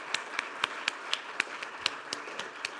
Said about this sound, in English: a round of applause again for Simon